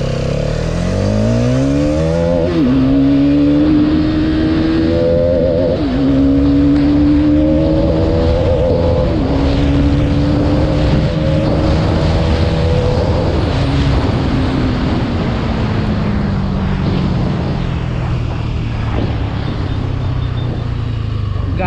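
A 2024 Hero Karizma XMR motorcycle engine revs and climbs through gears while riding, loud and close, with rising whine and wind rush over about twenty seconds.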